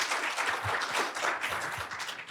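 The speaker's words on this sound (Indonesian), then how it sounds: "Bapak ini kalau tepuk tangan untuk Pak SBY" An audience applauding at a political talk event, steady dense clapping that carries on throughout, fairly loud and close.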